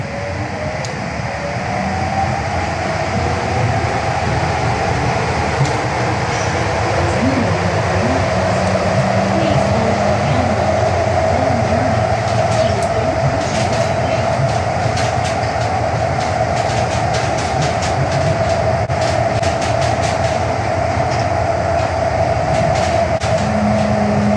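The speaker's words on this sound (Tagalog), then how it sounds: "sumakay kami ng train para i-transfer kami sa immigration" An airport transfer train in Hong Kong runs steadily, with a loud continuous rumble and hum, a faint whine and occasional light rattles and clicks throughout.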